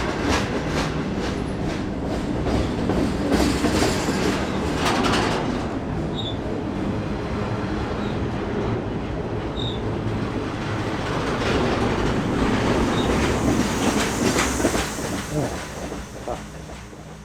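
A freight train picks up speed at night with a steady, loud rumble and rattling clickety-clack of railcars, heard close up from on board, with hissing throughout.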